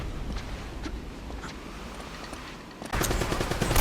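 Gun battle in Uncharted: Drake's Fortune, with an AK-47 among the weapons: a low rumble of distant shots at first, then a sudden loud stretch of rapid automatic gunfire near the end.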